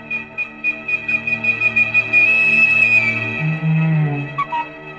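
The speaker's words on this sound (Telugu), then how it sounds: "ఎప్పుడే నీకు విజిల్ వేస్తున్నది?" A clear, sustained whistle rings out at close range, holding a steady high tone before sliding downward, with short rhythmic tonal blips before and after it in an otherwise quiet indoor setting.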